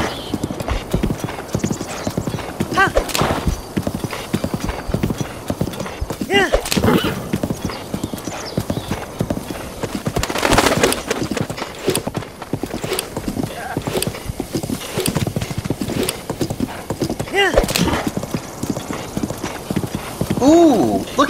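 Horse hooves clip-clopping steadily while riding along a road in a video game, with occasional whinnies, a loud continuous rhythmic patter heard under talking and game music throughout.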